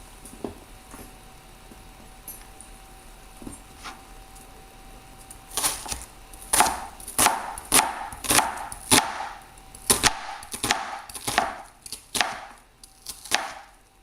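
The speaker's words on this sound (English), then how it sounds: "So now we're going to chop up these onions" A knife chops regular medium-sized onions on a cutting board, starting with a few sparse taps and then settling into a steady run of sharp, close cuts, each a crisp knock with no talk.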